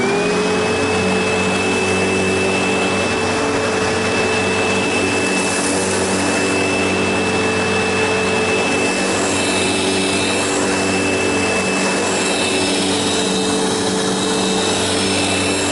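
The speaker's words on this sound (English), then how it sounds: "this is an upright, heavy-duty bypass motor vacuum." A heavy-duty commercial upright vacuum cleaner with a bypass motor, a SEBO/Sanitaire EON, runs loud and steady, its motor holding a constant high whine over a deep roar the whole time.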